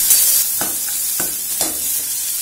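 Onions frying in a pan with salt give a steady bright sizzle, broken by three quick scraping stirs of a spoon, close and alone.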